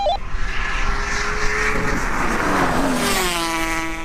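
A Toyota Supra with a 2JZ engine drag races an Aprilia RS 250 two-stroke V2 motorcycle, producing loud, close engine roar with rising revs and high-pitched two-stroke whine building steadily.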